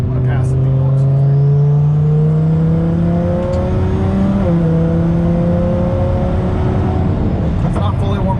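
A race-engineered twin turbo Lamborghini Huracan accelerates past, its engine note climbing through rising harmonics as it pulls away. The sound stays loud and close throughout, with a voice speaking over it.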